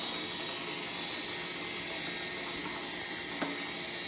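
An electric spiralizer runs on a zucchini, a steady close motor whine and whirr that holds evenly for a few seconds, with one faint click near the end and no talking.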